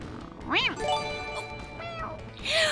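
A person voices a meow imitation, a short rising-falling cat-like cry, followed by a few sustained tonal game sounds and a brief noisy burst at the end.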